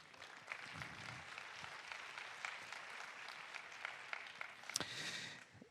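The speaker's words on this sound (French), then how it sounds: "Et on peut l'applaudir, bien entendu." Audience applause at a national conference on inclusive schooling, a sustained, moderately faint patter of many hands clapping as someone comes on stage, swelling slightly toward the end.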